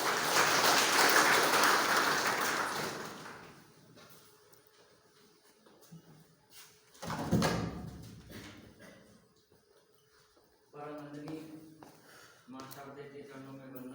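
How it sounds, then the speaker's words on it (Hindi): A school audience claps to welcome the principal at a Dr. Bhimrao Ambedkar anniversary event, a loud burst of applause that fades over a few seconds, followed by someone speaking into a microphone. "सर का ताली बजाकर स्वागत करें।"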